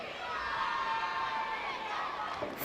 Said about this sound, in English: Loud cheer for Bhoi, as you can see.